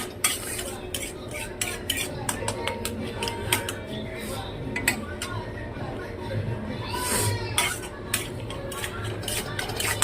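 Spring onion greens, tomato and onion are being mixed and pressed in a pan with a spoon. The spoon scrapes and clinks in quick, close strokes over a soft sizzle, with brief metallic taps throughout.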